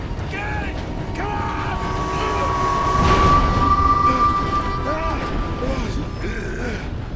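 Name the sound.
train passing in video game Red Dead Redemption 2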